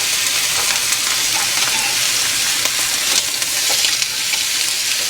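Marinated steak sizzles steadily on a hot grill pan, with a loud, continuous hiss and crackle throughout and no voices.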